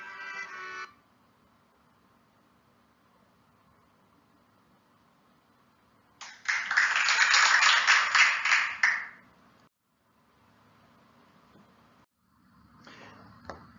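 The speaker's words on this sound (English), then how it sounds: "being in the top 10 at Impact deserves a second round of applause" An audience at an academic awards ceremony gives a round of applause for the top ten seniors. The clapping is moderately loud, lasts about three seconds and is set between quiet stretches.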